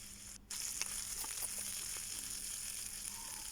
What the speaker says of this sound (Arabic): حطيت كده طبعا سمنة بلدي ورصيت اللحمة بتاعتي كده عشان تتحمر وتاخد لون حلو معايا